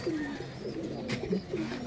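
Giribaz pigeons on a pigeon farm coo in low, throaty, rolling calls, several birds close by, steady and continuous with a brief faint chirp mixed in.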